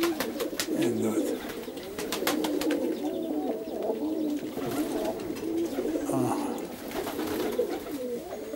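Perm pigeons coo softly in repeated low phrases, fairly faint and near, with scattered clicks and rustles around them.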